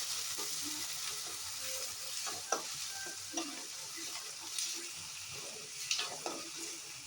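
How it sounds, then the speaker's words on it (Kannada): Onions fry in a pan for avalakki chitranna, a continuous soft sizzle with gentle scraping and stirring taps at a steady pace, fairly quiet. "ಈರುಳ್ಳಿನ ಫ್ರೈ ಮಾಡ್ಕೊಳ್ಳಿ."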